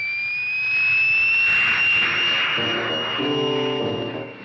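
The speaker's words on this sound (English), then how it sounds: "whole world listens to the twisted scream of the jet." Jet aircraft engine from an early-1950s newsreel roars loud and steady with a piercing high whine, swelling and then fading slightly as it passes, with no voices over it.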